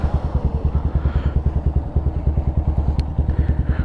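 A Honda Grom motorcycle idles just after starting, its small single-cylinder engine thumping in a steady, fast, even rhythm, loud and close with light mechanical clatter.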